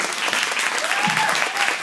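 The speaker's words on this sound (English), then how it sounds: "So you guys give these sales directors a huge round of applause." Audience applause for sales directors at a business meeting, a steady wash of clapping across the whole stretch with a faint voice rising briefly beneath it.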